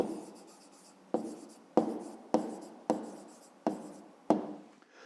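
A pen writes an answer by hand on paper in a math workbook exercise, seven distinct close strokes at a regular, unhurried rhythm, each a short scratch fading quickly, with no talk over it.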